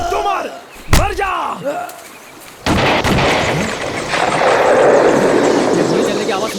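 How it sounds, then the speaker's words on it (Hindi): A single sharp gunshot rings out near the start of a dubbed Hindi action film scene, followed by a tense, dense roar of background score and ambience. "गोली चलने की आवाज सुनी तुमने?"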